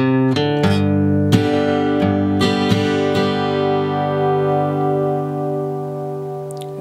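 Acoustic guitar picks the opening riff of a song, a few plucked notes ringing into sustained chord tones that fade gradually, played alone and close.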